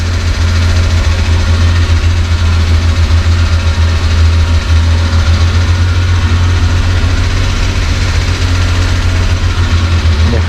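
A Suzuki Carry DC51T / Mazda Scrum DJ51T kei truck with an engine fault idles unevenly, a loud, close, low drone that pulses steadily throughout with no voices.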